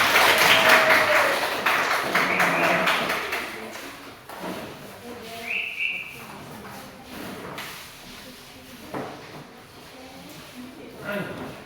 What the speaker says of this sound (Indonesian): Kasih aplaus dulu untuk kelompok 4.